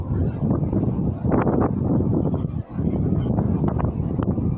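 Strong sea wind buffets the microphone in heavy, continuous gusts with a brief lull midway, a roaring low rush that fills the whole moment.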